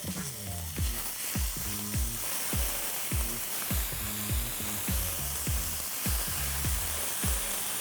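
Soaked ambe mohar rice hits caramelized onions in a hot pan, giving a dense, close sizzle overlaid with a steady rhythm of scraping stirring strokes.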